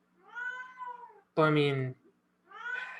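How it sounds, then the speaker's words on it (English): A house cat shut out of a room gives three loud, drawn-out, complaining meows, and one is fuller and harsher than the others. Someone speaks briefly between them. "My cat is going nuts. She just can't stand. She can't stand when she can't get in this room."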